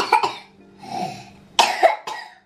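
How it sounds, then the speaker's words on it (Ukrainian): A child coughs several times at home, with sharp, close bursts separated by brief pauses. "Чого кашляєш?"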